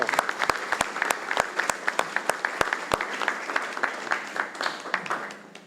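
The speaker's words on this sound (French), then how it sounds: "je voudrais qu'on commence dès à présent par un premier applaudissement pour tous ces agents qui se sont impliqués pendant ces 2 ans" An audience of employees applauds agents being honoured at a company contract-signing ceremony, a loose crowd clapping with sharp individual claps standing out, tapering off at the end.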